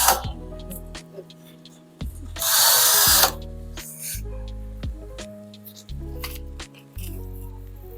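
A power drill drives screws into a steel drawer cabinet during assembly, with repeated whirring bursts of rising and falling motor pitch, one stretch of loud rattling noise, and short pauses between.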